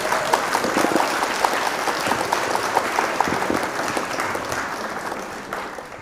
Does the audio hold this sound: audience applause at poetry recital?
yes